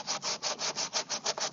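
Balled-up sandpaper rubs along the edge of a salt-washed wooden piece in about eight quick, even back-and-forth strokes, close and distinct, with no talking.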